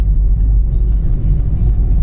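A car on the move gives a loud, steady low engine rumble with road noise close around the cabin, continuous throughout and with no talk.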